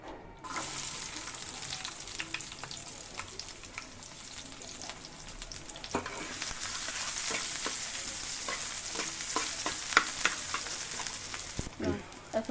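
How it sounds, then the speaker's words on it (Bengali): Onions frying in mustard oil in a pan for an egg and eggplant curry: a steady, close crackling sizzle throughout, with scattered sharper pops and clinks. "দিয়ে দেবো সরষের তেল, দিয়ে দেবো পেঁয়াজ,"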